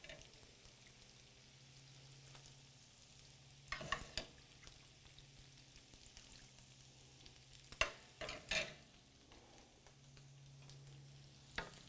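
Risotto simmers quietly in a pan after more broth is poured in, giving a soft, steady low sizzle broken by a few sharp clinks and stirring scrapes, all close and faint.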